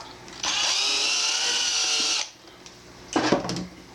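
A power drill whirs steadily for nearly two seconds while drilling a hole in a small planter, then winds down; a brief clattering burst of handling noise follows near the end.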